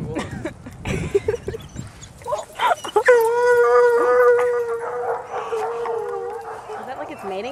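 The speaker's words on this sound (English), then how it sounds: "Is that like its mating call? No, it's a hound." A hound dog lets out a long, drawn-out howl that rises and holds for a few seconds, preceded by scattered yips, while people talk nearby over the dog.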